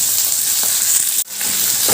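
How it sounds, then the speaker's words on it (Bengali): Large cubed onion fries in hot oil in a pan, a loud continuous sizzle with brief stirring scrapes and a short break before the hiss resumes. "দিয়ে একটু ভাজা ভাজা করে নিচ্ছি"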